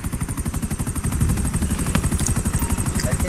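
Rapid, steady rotor thump of a CEO helicopter in Grand Theft Auto 5, loud and continuous throughout with a constant engine whine above the beating blades.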